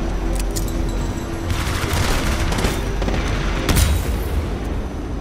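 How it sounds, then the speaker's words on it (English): Titanfall 2 combat erupts in a dense, loud barrage of EPG energy weapon shots, gunfire and explosions, with continuous booms and rattling that overlap without a pause. "I shot an EPG at this guy, and then I insta died"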